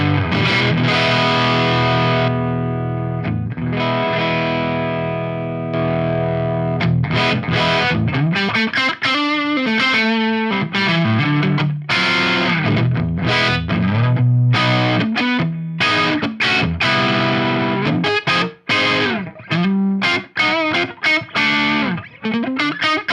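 Guitar through a Lichtlaerm Aquaria Overdrive v2, fully blended wet clipping circuit with germanium diodes: thick saturated chords ring out, then choppy riffing with sharp stops and bends, loud and up close.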